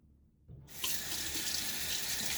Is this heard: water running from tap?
yes